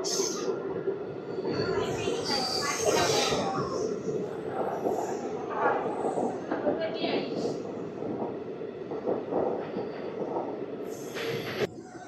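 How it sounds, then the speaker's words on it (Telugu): The Narasapur Express pulls out of Nellore station with a steady low rumble and rattling carriages, intermittent squeals and clanks, while people talk nearby throughout. "మన ట్రైన్ వచ్చేసరికి నెల్లూరు నుంచి స్టార్ట్ అయిపోయింది 9:50కి."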